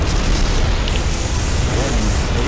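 Quartet cannons in the Armored Core Nexus video game fire and explode in a dense, continuous roar of booming blasts that overlap without a break.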